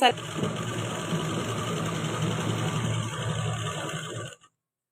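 A sewing machine stitching the hem of a salwar, a continuous motor whir with a rapid stitching rhythm that runs for about four seconds and then stops abruptly.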